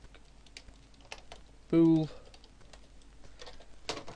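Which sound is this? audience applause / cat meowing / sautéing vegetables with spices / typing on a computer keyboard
typing on a computer keyboard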